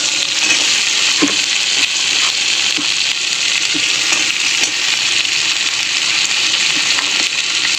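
Cubed onions fry in oil with capsicum and garlic, producing a loud, continuous, close-up sizzle with faint stirring taps throughout and no voices.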